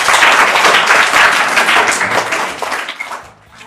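A studio audience claps loudly at the start of a quiz game show, dense, vigorous applause that gradually thins into scattered claps and fades out.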